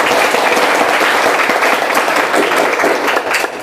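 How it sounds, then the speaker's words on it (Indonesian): A classroom group gives a round of applause for a student, steady dense clapping filling the whole stretch at close range, with no one speaking over it. "Silakan tepuk tangan yang semangat dulu untuk Restu"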